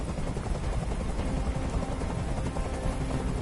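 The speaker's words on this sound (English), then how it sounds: "Tell that helicopter to get out of here." Steady helicopter rotor drone in the Detroit: Become Human video game, a continuous low thumping roar holding at a constant level throughout, with no other sounds over it.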